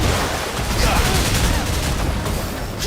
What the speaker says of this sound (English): I'm just shooting a gun.